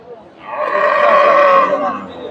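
A pregnant crossbred cow moos once, a long, loud, drawn-out low call that swells and fades over about two seconds.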